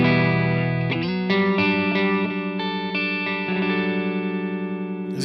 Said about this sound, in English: First off is the Timmy, which gives me a little bit of boost.